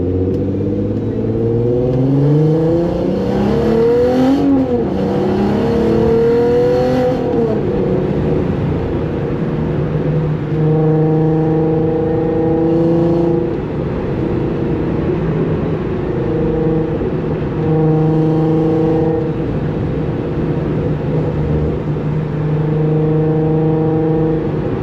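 A Volkswagen MK4 R32 engine idles and revs in steady repeated blips, its deep harmonic drone rising and falling in pitch, close and loud with no talking.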